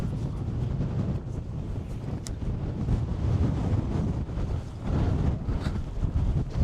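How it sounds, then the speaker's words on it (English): Strong wind on the hill by the Wedgwood Monument in Staffordshire rumbles low and steady, buffeting the microphone throughout. "The wind just, it's blowing me off the path."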